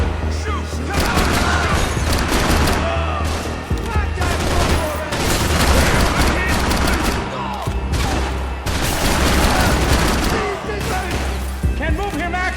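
Loud, dense gunfire in the video game Max Payne 3, with continuous automatic bursts and crashing impacts throughout, mixed with shouted voices.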